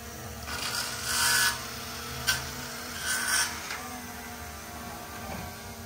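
Rasping saw strokes cut in a slow, uneven rhythm, faint and somewhat distant beneath a constant background hum.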